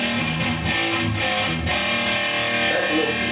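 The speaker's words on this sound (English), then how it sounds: "that's a little too much distortion for me" A Randall RG75 guitar amplifier pushed into heavy distortion, a dense, loud, sustained saturated guitar tone ringing steadily throughout.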